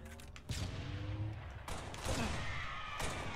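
Grenade blasts and gunfire in a Halo Reach free-for-all match, with sharp bursts and booming impacts in quick succession, loud and layered over a busy game soundscape.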